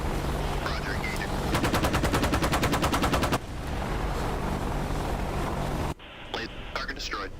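Helicopter gunfire in the DCS combat flight simulator, a rapid rattling burst of about a dozen and a half shots over steady rotor and engine drone, followed by calmer rotor noise and brief radio-style voices.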